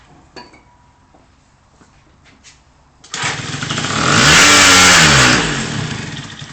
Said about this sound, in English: revved for a little bit, but then it just bogs down